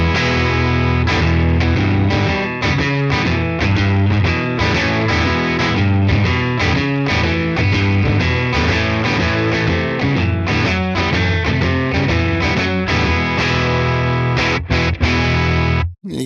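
An electric guitar on its middle single-coil pickup, played through a Tone King Imperial preamp pedal with the bass turned down and the level pushed, gives a bluesy Texas-style tone with steady driven notes and chords that ring without a break.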